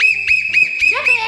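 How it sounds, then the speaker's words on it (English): A toy whistle blown in a run of shrill, steady blasts indoors, with short gaps between them, loud and close, over a low background hum. "Do not blow that whistle."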